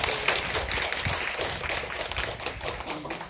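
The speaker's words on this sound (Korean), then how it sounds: "여러분 박수 한번 쳐야 되겠죠?" A church gathering applauds its team leaders, many hands clapping in a brisk, steady patter that stays loud and even from start to finish.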